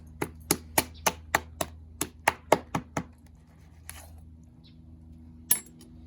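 A knife chops a lobster in about eleven sharp, evenly spaced strikes on a cutting surface, close and loud, then a pause and one final louder chop.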